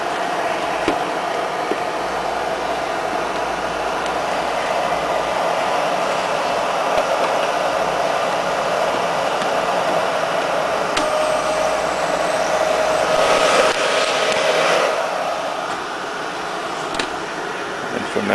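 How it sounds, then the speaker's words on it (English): A GE Deluxe hair dryer with case and bonnet-style head unit on a hose, running as a steady, loud whooshing hum that continues unbroken throughout, with a faint whine appearing briefly partway through and no voices. "you're bidding on a GE Deluxe hair dryer with case, fully functional"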